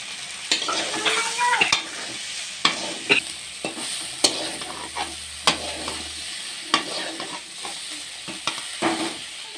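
Okra stir-fried with coriander powder and chaat masala for Odia bhendi bhaja, a steady sizzle broken by repeated sharp scrapes and clacks of a spatula against the pan, fairly close with no voices.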